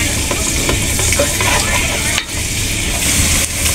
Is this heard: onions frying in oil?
yes